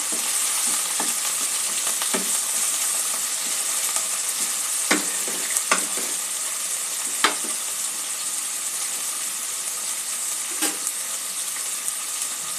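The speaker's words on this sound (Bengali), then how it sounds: "মিডিয়াম লো ফ্লেমে আলুটা আমি ভেজে নেব।" Potatoes fry over a medium-low flame for sponge gourd shukto, giving a steady, close sizzle throughout with a few faint clicks and scrapes and no talking.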